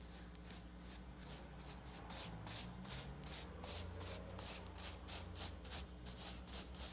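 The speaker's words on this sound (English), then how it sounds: "Now I'm ready to use a whisk to get the dusty surface out." A whisk sweeps dusty grit from a gravel bed in an asphalt pothole, with repeated brisk scratchy strokes that hold a fairly steady level.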